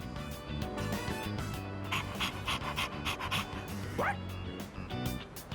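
Koromaru, the dog in the Persona 3 Reload video game, pants in a steady rapid rhythm with a brief whimper-like yip partway through, set against a soft musical background.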